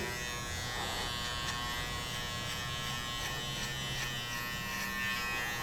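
An electric hair clipper fitted with a number 1 guard buzzes steadily while cutting a fade, a constant close drone with faint periodic clicks and no talking.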